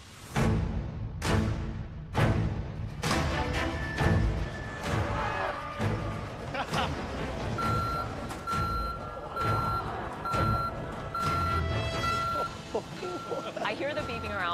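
Reversing beeps from a machine on a televised cooking competition set, a steady repeating electronic tone rising over a busy bed of clatter, crowd murmurs and reactions.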